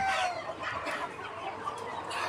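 Sonali and Kadaknath chickens on a poultry farm make a dense, continuous murmur of clucking, fairly close and fairly loud, with no speech.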